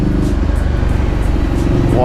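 A Ducati 800 Scrambler motorcycle on the move, its engine note loud, steady and close, droning continuously from start to finish.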